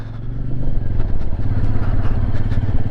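A Royal Enfield Meteor 350 motorcycle pulls away from a standstill, its single-cylinder engine thumping loudly and close as it rises in revs and keeps steady throttle.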